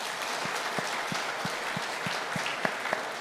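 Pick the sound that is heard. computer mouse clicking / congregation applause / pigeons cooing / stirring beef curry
congregation applause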